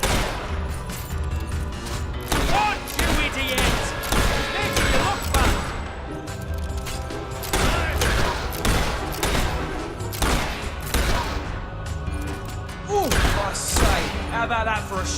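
Gunfire and crashing impacts from a mercenary battle in the video game Fable 3, loud and dense with repeated shots over a busy mix of music and effects, while characters speak throughout.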